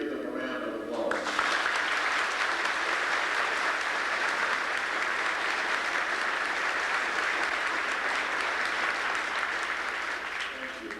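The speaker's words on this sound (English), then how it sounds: "Would you please give them a round of applause?" An audience breaks into sustained applause honoring law enforcement guests, clapping loud and continuous for about ten seconds before beginning to taper, with a voice briefly heard at the start.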